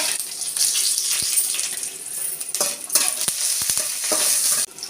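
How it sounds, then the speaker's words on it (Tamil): Hot oil sizzles with a steady, bright crackle as cinnamon is tempered in it, and occasional small taps and clinks come from a pan being stirred. "எண்ணெய் சூடாயிடுச்சு தாளிக்க பட்டை வகை சேர்த்துக்கிறேன்"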